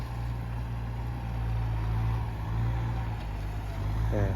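The engine of a Kubota M6240 tractor runs with a steady, close, low droning hum that holds constant throughout.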